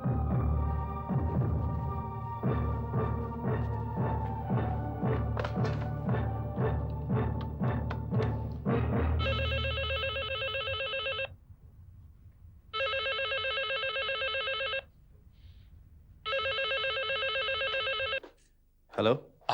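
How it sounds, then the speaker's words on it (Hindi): A telephone rings during a call in a hospital drama. Three or four repeated ring bursts sound clearly in the second half of the clip, after a stretch of voices and background music. "पहले आकाश को फोन करके बता तो दूं।"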